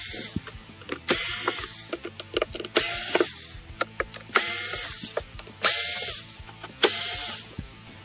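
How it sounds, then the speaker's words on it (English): A ratchet loosens screws on the ABS cover of a Kraken Flood Pumper carpet water extractor, making loud close clicking runs in repeated bursts, each a quick pawl rattle separated by short pauses and small taps. "Now that we've loosened the ABS plate, remove the screws from it"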